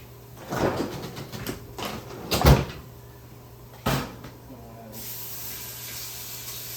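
A freezer door is pulled open and shut while a minced garlic cube goes back inside, a few close clunks and rustles followed by a steady hum.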